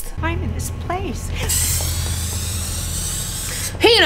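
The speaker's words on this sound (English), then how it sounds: "He done gave her the sleepy spray too." Sleeping spray hissing in the film Split: brief voices, then a sustained airy spray hiss of about two seconds, with another voice breaking in at the end.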